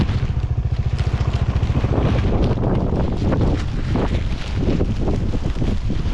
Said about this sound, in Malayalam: നല്ല കാറ്റാണ് കേട്ടോ